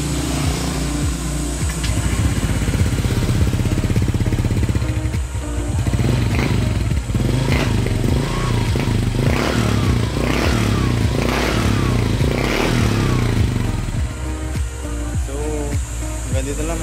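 A 2023 Honda Click V3 scooter fitted with an MT8 exhaust pipe idles loudly up close, then revs repeatedly in short throttle blips with a raspy, burbling exhaust note.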